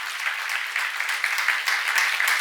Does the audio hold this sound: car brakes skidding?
no